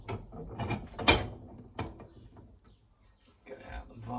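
Ratchet clicking as a fan shroud is bolted onto an engine for a CB Performance 2017cc build, giving quiet close bursts of ratcheting and metallic clanks with a sharp knock near one second, under brief speech.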